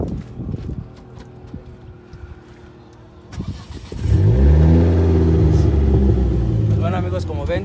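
A Ford Focus ST engine cranks and catches, then settles into a loud, deep idle rumble; some talking and light clatter come before it starts.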